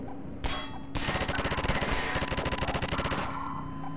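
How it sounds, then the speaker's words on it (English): Mounted gun in Half-Life 2 on an Xbox Series S fires a long, loud burst of rapid automatic shots with metallic clangs, preceded by a brief single blast and trailing off into ringing echo. "Use the mounted gun."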